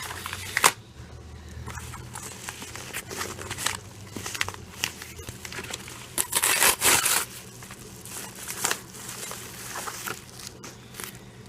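Unboxing a Mora 748 knife package: crackly plastic and cardboard handling, with rustling, crinkling and sharp clicks that come and go in short bursts, close up, and no talking.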